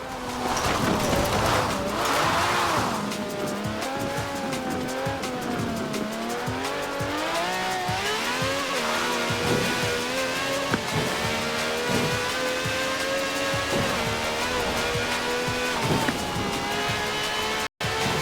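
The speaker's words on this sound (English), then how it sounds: "No clattery diesel engine here. This has a V12 with over 750 horsepower" A V12 car engine with over 750 horsepower races in the Forza Horizon 4 video game, screaming loudly through rising and falling revs with gear shifts and tire squeal, no voices.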